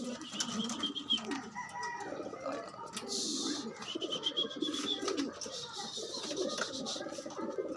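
Pigeons on a roof give soft, repeated coos amid a busy outdoor background, with occasional wing flutters and a person talking nearby.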